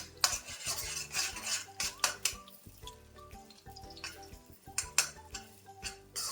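A fried egg being broken up and mixed in a pan while cooking chicken egg fried rice: close metallic scrapes and clinks of a utensil against the pan, recurring irregularly under steady background music.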